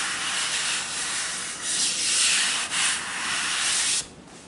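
A blade scraping dried joint compound off a drywall seam, a close, steady gritty rasp in long continuous strokes with short pauses, then stopping near the end.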